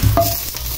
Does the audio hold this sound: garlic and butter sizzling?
yes